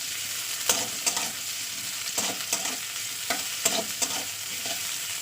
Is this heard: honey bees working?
no